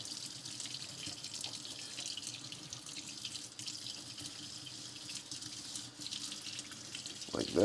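Water runs steadily from a kitchen faucet into a sink while dishes are washed by hand with a sponge, a constant close hiss with faint clinks and a brief splashy burst at the end.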